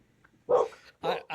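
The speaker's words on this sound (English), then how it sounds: "I think the dogs are calling over at Coach Bo's house." Dogs barking near a house: three loud, close barks in quick succession with a short gap after the first, with no talk over them.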